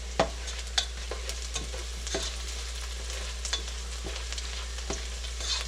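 Ground deer meat for chili frying in a pan, a steady low sizzle broken by scraping stirs and occasional sharp utensil clicks against the pan, close and fairly quiet.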